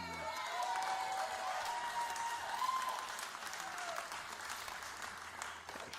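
An audience applauds in a steady wash of clapping that continues throughout at a fairly faint, distant level, with a little murmur mixed in.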